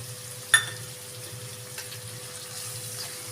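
Onions and tomatoes frying in a pan give a steady, even sizzle, with one sharp click near the start and no talking.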